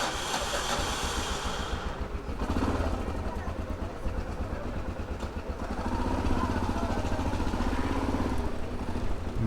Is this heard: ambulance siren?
no